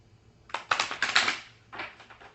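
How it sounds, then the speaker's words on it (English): Quick riffling bursts of tarot cards being shuffled, one long flurry followed by a shorter one after a brief pause, close and crisp. "So I do what I call a full 4-card shuffle here."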